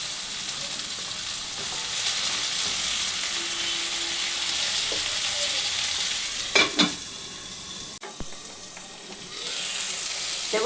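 Chunks of potato, pointed gourd and eggplant fry in a pan with a steady sizzling hiss. Occasional sharp stirring scrapes and clinks sound close by, with no talking.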